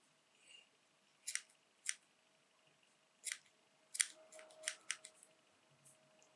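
Scissors trim the sides of a one-material jig shrimp fly at a fly-tying bench. The snips are quiet and crisp, about eight of them in irregular pairs and singles over near silence.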